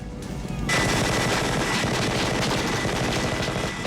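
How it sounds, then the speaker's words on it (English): A Gatling gun fires in the 1987 film Predator. A loud, continuous roaring stream of rapid shots starts abruptly after a brief lead-in and holds dense and steady to the end. "Jesse had that huge Gatling gun, which makes so very little sense"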